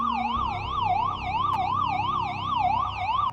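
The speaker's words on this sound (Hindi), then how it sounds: "तभी अचानक पुलिस की गाड़ी का सायरन बजा" A police car siren wails in a fast, regular rising-and-falling sweep, steady and fairly close, with a low engine rumble underneath.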